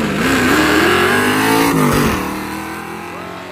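A Road Runner and a Falcon drag race car roar loudly at a nostalgia drag meet, engines revving with rising and falling pitch, then fading slightly as they pull away.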